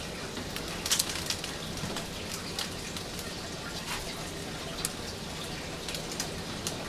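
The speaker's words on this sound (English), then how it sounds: "marble size hail, a lot of wind, a lot of rain" Heavy rain with marble-size hail pours down during a thunderstorm, a steady dense hiss of drops with scattered sharper ticks of impacts, faint and continuous, no voices.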